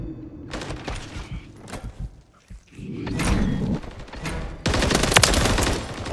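Gunfire in the video game Call of Duty MW3, with loud rapid bursts of automatic fire and a few thuds coming in waves, the heaviest volley near the end.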